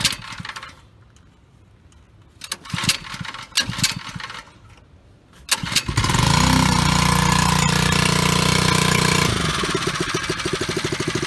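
A small engine idling steadily during maple syrup season work in the sugarbush, starting after some clattering handling noises and holding a loud, even drone for several seconds before shifting to a lighter rattle.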